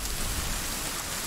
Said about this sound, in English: At least there's some kind of shelter from the rain.